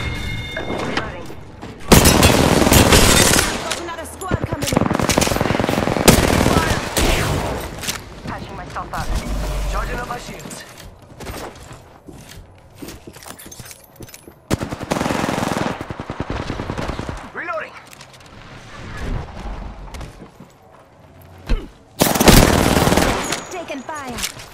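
Bursts of automatic weapon fire from Apex Legends rattle loudly in several separate volleys, broken by quieter stretches of game sound and a player's voice talking between the bursts.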